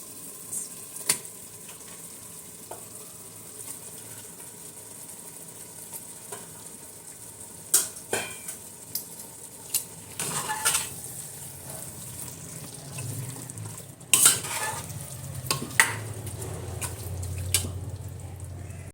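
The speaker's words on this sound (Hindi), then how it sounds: "अब इसमें डाल रही हूँ मैं गोश्त, आधा किलो मटन है।" Half a kilo of mutton frying in a pot, a soft steady sizzle with scattered clinks and scrapes of stirring, swelling into a louder, fuller hiss in the last few seconds.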